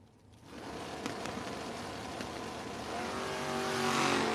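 Hot rod trucks, including an extended-cab Chevrolet S10, racing at a No-Box 660 drag shootout: loud engine roar that starts quiet, then builds steadily and rises in pitch as the trucks accelerate down the strip.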